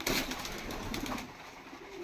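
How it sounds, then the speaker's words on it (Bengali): Hungry pigeons wait restlessly for a late feeding, giving soft, close cooing and fluttering sounds over a short stretch that tapers off toward the end. "খাবার দিতে আজকে অনেক দেরি হয়ে গেছে দেখেন ছটফট করতেছে কবুতর খাবার জন্য"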